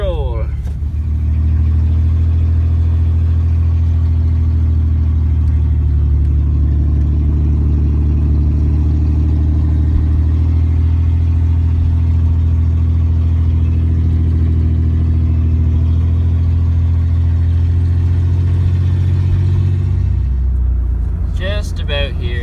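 Steady low engine drone of a truck cruising along the road, heard from inside the cab, holding an even level for about twenty seconds before easing off near the end.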